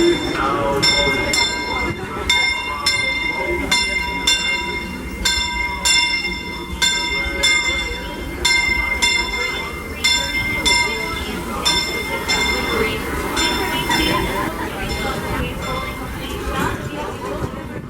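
Disneyland Railroad train at the station, with a bell ringing in repeated rhythmic bursts over rumbling train noise and crowd chatter, fairly loud and close.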